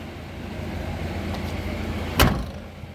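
A low idling engine hum from a Mercedes coach runs throughout, then a single sharp bang of a service flap being shut, followed by quieter rattles.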